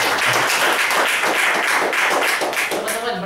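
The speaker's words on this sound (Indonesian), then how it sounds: "Kasih tepuk tangan luar biasa." A room full of people clapping at a motivational success talk, the dense, busy applause holding steady and fairly loud for the full length with no speech over it.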